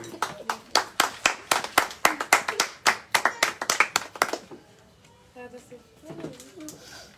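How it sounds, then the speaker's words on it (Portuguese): A church congregation claps for Jesus with a dense run of sharp hand claps for about four seconds, then stops. Faint voices and soft noises follow in the quieter room. "Pode bater uma salva de palmas para Jesus."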